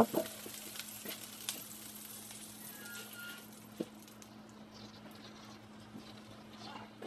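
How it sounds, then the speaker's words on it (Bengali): Butter brushed across a hot pan gives a soft, quiet sizzle with scattered light ticks and brush taps, one sharper click in the middle, and a low steady hum underneath. "প্যানটা গরম হয়েছে, এ পর্যায়ে আমি বাটার ব্রাশ করে দিব"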